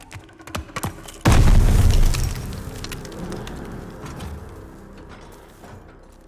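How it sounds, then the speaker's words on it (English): A grenade detonates in the video game Call of Duty Vanguard on PS5: one sudden, loud, deep boom after a few lighter knocks, its rumble fading slowly over several seconds. "Grenade! Get down!"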